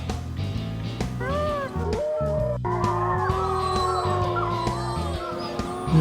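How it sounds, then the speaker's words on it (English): Werewolves howl in a movie, rising wavering howls layered over loud, busy film music and background sound, spread across the whole stretch. "I can hear the werewolves howling"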